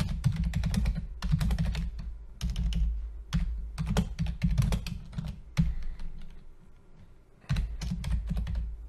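Steady, close-up clicking of fingers typing on a computer keyboard, coming in quick rapid bursts separated by brief pauses, with no voices.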